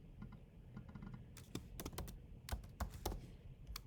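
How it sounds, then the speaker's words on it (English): Quick, light keystrokes on a computer keyboard, close and quiet, with bursts of clicks and a few sharper taps, no voices. "So I can type my reply."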